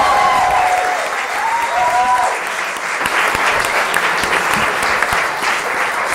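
An audience at a comedy night applauds a stand-up comedian, steady loud clapping filling the whole stretch with a faint voice briefly heard early on.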